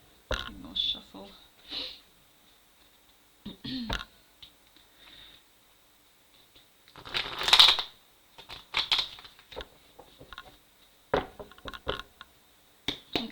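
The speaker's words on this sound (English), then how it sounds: "Alright, one more shuffle." Tarot cards are shuffled in short, crisp, riffling bursts, with one louder flurry midway. A voice talks quietly between the bursts.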